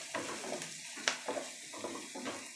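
Onions fry in a pan for an aloo masala, giving a steady soft sizzle with faint stirring scrapes and one brief clink. It stays quiet and continuous with no talking.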